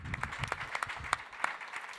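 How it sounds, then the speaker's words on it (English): An audience at a high-level conference on fundamental rights claps in a scattered, moderately quiet round of applause, individual hand claps distinct and unevenly spaced. "Big applause."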